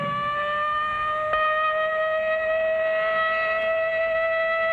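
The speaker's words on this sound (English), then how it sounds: "But tomorrow, this siren may mean the real thing." A civil defense air raid siren holds a steady, loud mechanical wail with layered harmonic tones, sounding alone and sustained throughout.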